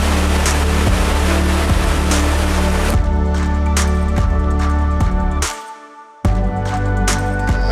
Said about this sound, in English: this waterfall, there is actually quite a fair bit of water down it